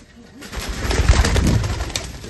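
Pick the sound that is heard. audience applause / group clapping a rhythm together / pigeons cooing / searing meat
pigeons cooing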